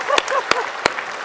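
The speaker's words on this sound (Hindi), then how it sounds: "तो जोरदार ताली बजाते हैं।" A short burst of loud clapping from an audience at a yoga demonstration with a government minister, a few sharp claps standing out with voices mixed in.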